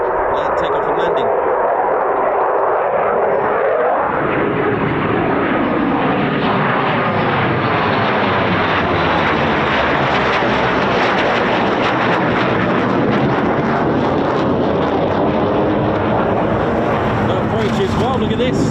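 A military jet performing a go-around at an RAF airfield in a slight crosswind roars loudly and close, its engine noise swelling and sweeping in pitch as it passes, while someone talks over it.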